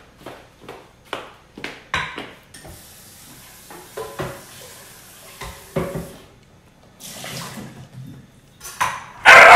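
Water splashes while a blender jar is rinsed in a home kitchen, coming in short irregular bursts that end in one loud close gush, with no talking.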